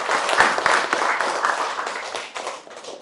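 Audience applause for a presenter at a university teaching-certification session, a dense wash of many hands clapping that starts strong and gradually thins and fades over about three seconds.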